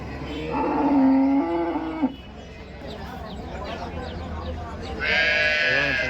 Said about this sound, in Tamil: கத்துறதை பார்த்தா கண்ணுக்குட்டியை பிரிச்சிருக்காங்க